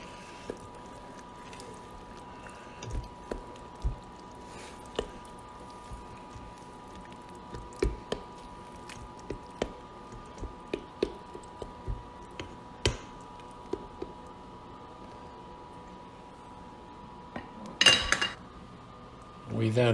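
Spoon or utensil clinking and scraping inside a cooking pot while ingredients are stirred together, a scattered run of light, sharp metallic taps spread across a quiet kitchen background.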